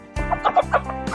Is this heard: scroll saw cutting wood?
no